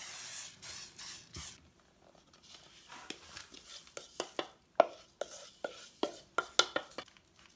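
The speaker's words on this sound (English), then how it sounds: "I'm going to go ahead and give the paper a light spray also." Cooking spray hissing onto parchment paper lining a springform pan for a strawberry cheesecake, a few short close bursts followed by clicks and taps of the pan and paper being handled.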